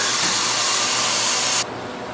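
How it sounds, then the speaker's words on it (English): A home freeze dryer vents its pressure with a loud, steady rushing hiss that cuts off abruptly after about a second and a half, leaving a quieter background hum. "So I'm gonna release the pressure."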